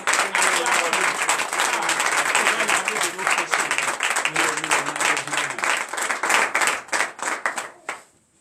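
A church congregation at a morning prayer service claps and cheers steadily for several seconds, loud and dense, with voices mixed in before the applause fades out at the end.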